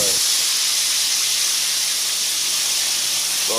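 Chile sauce hitting hot oil and spitting for enchiladas, a steady loud hiss of sizzling and splatter that runs unbroken from start to finish, with no voices over it.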